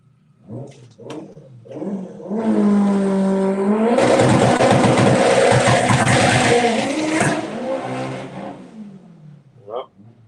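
A Honda Civic drag car launches hard at a run-what-you-brung drag racing event, its engine rising into a loud, sustained roar with tire noise for several seconds before cutting off; voices talk briefly before and after.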